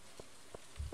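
Rain in the video game Stardew Valley falls as faint, scattered droplet taps, a few soft plinks spaced out over a quiet background.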